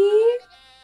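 A human voice imitates a goat's bleat with one short, rising 'maa' call, close and clear, fading into a softer tail, in a children's farm-animal lesson.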